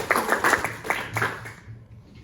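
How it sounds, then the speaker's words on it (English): A round of applause from a small audience at a Toastmasters club speech session, a short burst of close hand claps that quickly fades out to quiet. "Give a round of applause."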